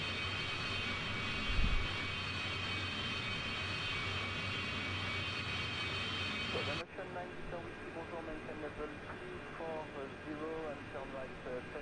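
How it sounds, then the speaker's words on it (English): Engines of a large airplane drone loudly and steadily in flight, heard from inside the cabin, with a change in tone partway through and faint cabin sounds layered over the constant roar. "you can listen to the engines. It's just absolute monster, this thing."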